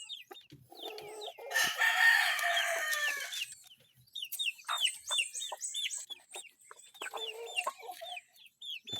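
Native labuyo chickens on a farm, several birds clucking with a loud rooster crow early on, then repeated short chirps and clucks close by, with no talking.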